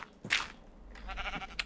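A Minecraft sheep in the Feed the Beast modpack bleats once, short and fairly close, followed by a second softer wavering bleat over low game background hum.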